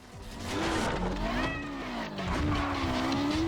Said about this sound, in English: So I don't know if you can hear that. It's my cat.